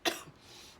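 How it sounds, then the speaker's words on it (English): A single sharp cough bursts out near the start, loud and close, then trails off into a quiet breathy tail with no talk, from a young adult during a cannabis smoking session. "You're gonna notice that I cough and I have baby lungs"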